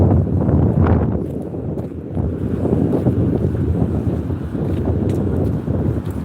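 Sea waves surge over the promenade at Withernsea on a cold, windy afternoon, heard as heavy rushing water mixed with strong wind buffeting the microphone, loud and steady without speech.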